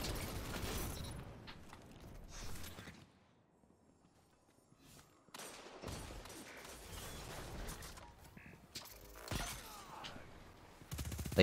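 The Arbalest exotic linear fusion rifle fires in Destiny 2, sharp loud blasts with crackling tails, a quiet lull in the middle, then more shots close together.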